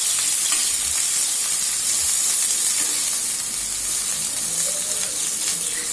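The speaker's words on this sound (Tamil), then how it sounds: "கடாய் சூடானதும் ஆயில் ஊற்றிருக்கேன். அதில் ஒரு பெரிய வெங்காயத்தை பொடுசாக கட் பண்ணி போட்டிருக்கேன்." A large chopped onion frying in hot oil in a kadai while making aloo paratha gives a steady, close, dense sizzle that runs unbroken throughout, with no talking.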